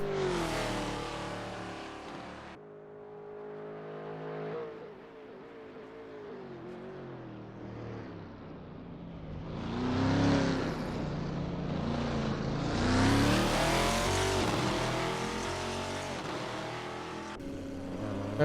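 Race car from Assetto Corsa lapping the Spa circuit in a GT race, engine note rising and falling as it accelerates and passes, moderately loud with no talk.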